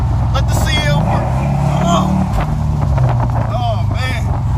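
Mercedes-Benz CL, a heavy luxury car, pulling hard under throttle with a continuous deep engine hum and rising pitch mid-clip, cabin wind noise, and someone speaking throughout.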